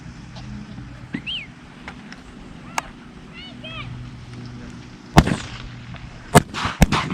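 Three sharp, loud shotgun blasts ring out in quick succession near the end of an opening-day dove hunt, following a quieter stretch of open-air ambience with faint bird chirps.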